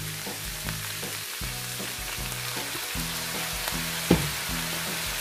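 Green beans stir-fry in a hot pan with soy sauce just added, giving a continuous sizzle. A rhythmic, repeated tossing or stirring sound runs through it, and one sharp clink stands out. No talking.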